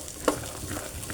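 Peanuts fry with garlic in a pan for adobong mani, giving a soft steady sizzle with one sharp pop or clink near the start, with no one talking.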